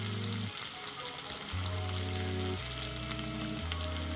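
Chopped onions sizzle steadily in hot oil with tempering seeds for an okra curry, a continuous close frying hiss with low tones running underneath.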